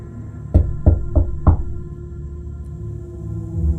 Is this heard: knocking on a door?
yes